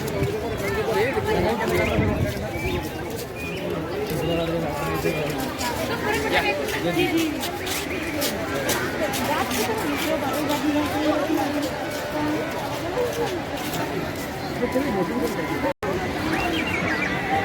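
Dense crowd chatter on crowded Digha beach, a steady hubbub of many overlapping voices throughout, loud and close, with one brief dropout near the end.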